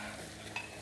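A spoon stirs lentil soup seasoned with garlic powder, salt, pepper and paprika in a pot, making a brief, soft, close scrape with one small clink over a low simmering hiss.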